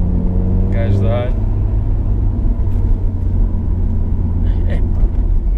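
Alfa Romeo Giulietta QV fitted with a Supersprint exhaust, a loud steady exhaust drone and rumble close by with a brief revving rise near the start, while people talk over it.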